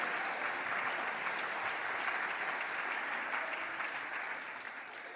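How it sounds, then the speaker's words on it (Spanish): A congregation applauding in church, a sustained crowd of hands clapping at moderate distance and fairly soft, tapering slightly toward the end. "Se os va a aplaudir al Señor, apláudele fuerte"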